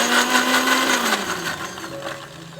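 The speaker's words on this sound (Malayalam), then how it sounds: "കടുക് ഒന്ന് ചതച്ചെടുക്കുകയാണ് നമ്മൾ ചെയ്യുന്നത്" A mixer grinder crushes mustard seeds for a kichadi paste, a loud close whirring motor whose pitch drops and wavers as the seeds break down, with no talking.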